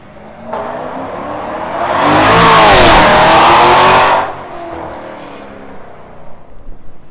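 Porsche Panamera 4S 3.6 with a remote-controlled Varex exhaust, revving hard. It builds to a loud sustained roar, drops back to idle and then gives a few burbling blips, close by.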